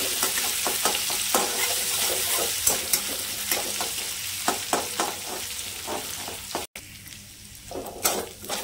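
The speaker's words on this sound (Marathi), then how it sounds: "आलं लसूण याला चांगलं परतून घ्यायचे." Crushed ginger and garlic stir-fried in hot oil with cumin, a steady crackling sizzle with scattered pops and occasional stirring scrapes, close and continuous, no voices.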